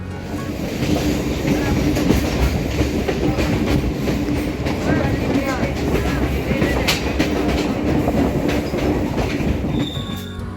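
A Kolkata Circular Railway train runs along the Ganga riverbank past Bagbazar, its wheels rumbling and clattering loudly and steadily from on board, with faint squeals and voices partly buried in the noise.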